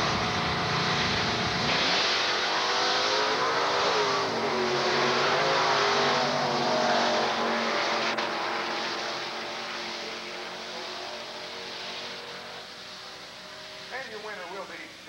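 Drag race cars roar down the strip at the Texas Motorplex in 1990, a loud sustained engine howl that swells and fades as they pass, with crowd and announcer noise mixed underneath.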